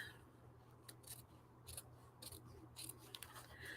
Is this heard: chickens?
no